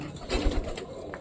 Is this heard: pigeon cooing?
yes